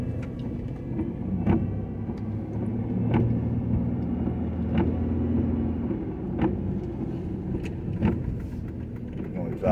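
A car drives through a residential neighborhood in Cleveland, Ohio, its steady engine rumble and road noise continuous from inside the cabin, with a person talking over it throughout.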